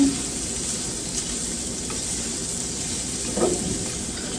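Shrimp frying in a pan alongside salmon, a steady close sizzle with a constant hiss and faint crackle running unbroken, plus an occasional soft stir or pop, no voices.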